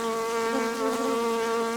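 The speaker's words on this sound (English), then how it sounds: "give us a close look at the bees hard at work" Honey bees buzz steadily around hive boxes, a close, continuous hum with a strong low drone and layered overtones, loud and unbroken with no talking.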